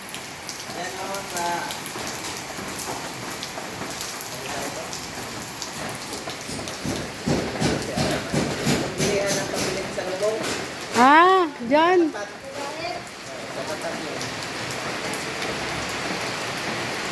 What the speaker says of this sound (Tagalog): Grabe, ulan na naman dito ay.